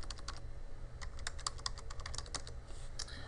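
Quiet, rapid clicks of a computer keyboard being typed on, with short bursts of keystrokes close by and no talking.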